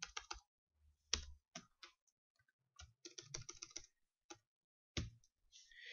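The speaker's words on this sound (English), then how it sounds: "Okay, I'm going to type that social in again." Typing a number on a computer keyboard, with close, quiet bursts of key clicks separated by short pauses and no talk.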